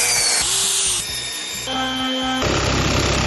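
A power tool whirs loudly and continuously, its motor pitch shifting up and down in stages as it runs.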